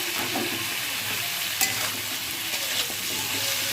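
Vegetables and a fish curry base fry in a pan, giving a steady, loud sizzle with brief stirring scrapes.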